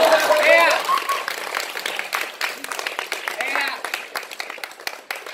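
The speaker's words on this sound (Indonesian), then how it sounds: "Tepuk tangan." Audience applause at a school gathering at SMAN 1 Sungai Tabuk, a dense wash of clapping that is loud at first and then eases, with voices talking over it.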